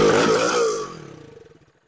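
A Honda MSX 125 SF motorcycle with a box-style muffler gives a brief, loud, muffled exhaust rev close by, then drops into a slowing, fading putter as the engine winds down to quiet.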